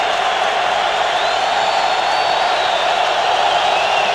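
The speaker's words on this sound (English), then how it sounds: "Crowd has been up-tempo since the opening kickoff." Steady roar of a packed NFL stadium crowd at a 2003 Wild Card playoff game, Broncos at Colts in Indianapolis, a continuous loud wash of cheering and voices with no pauses.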